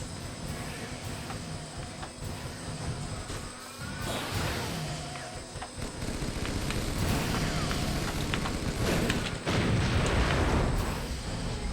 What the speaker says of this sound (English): I can see those explosions a mile away.